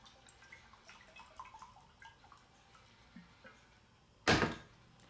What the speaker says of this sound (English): Gotta like a bottle that thunks when you set it down.